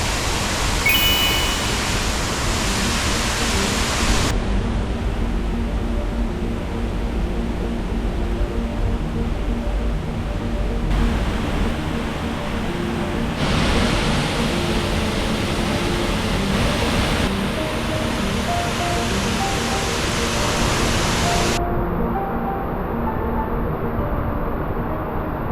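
A 27-foot waterfall in Ricketts Glen, running high and forceful, roars as a steady broadband rush close by, unbroken for the whole stretch with no voices.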